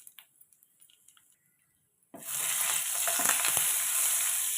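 A couple of quiet seconds with small clicks, then a sudden burst of loud, close sizzling as spices and asafoetida hit hot oil for tempering, crackling steadily afterward.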